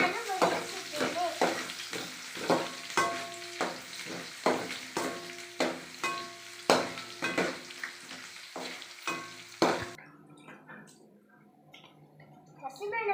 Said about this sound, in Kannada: ಈಗ ನಾನು ಹುರಿಯುತ್ತಿದ್ದೇನೆ.